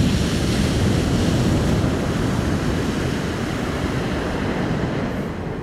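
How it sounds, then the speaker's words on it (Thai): Ocean waves wash continuously onto the beach at Malibu's Point Dume, a dense, steady roar of surf with some wind noise on the microphone and no voices. "นอนแค่ฟังเสียงคลื่น"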